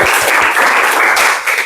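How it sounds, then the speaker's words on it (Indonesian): A classroom of students claps together for several seconds, a dense and steady burst of applause that fades slightly toward the end. "beri tepuk tangan."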